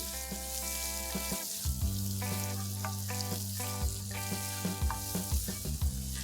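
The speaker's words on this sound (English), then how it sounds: "While this is sauteing, I'm going to add 1/4 teaspoon of black pepper powder and just stir that in." Vegetables sizzle in a hot pan for a restaurant-style chilli fish dish, a steady close frying hiss broken by repeated stirring scrapes and clinks.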